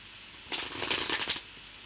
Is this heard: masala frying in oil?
no